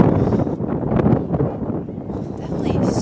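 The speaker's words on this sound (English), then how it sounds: "Definitely so windy. It's just getting more windy." Strong gusty wind buffets the microphone outdoors at a women's rugby match, a steady loud roar with rising and falling surges and no clear voices over it.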